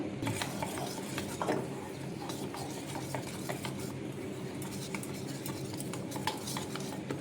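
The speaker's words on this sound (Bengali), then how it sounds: "এবার এখানে অল্প অল্প করে জল দিয়ে আমি বেসনটাকে গুলে নেব।" Gram flour being stirred with a little water at a time into a batter, a steady soft scraping and clinking of utensil against bowl that carries on quietly throughout with no talking.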